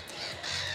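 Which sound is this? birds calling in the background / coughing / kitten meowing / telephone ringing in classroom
birds calling in the background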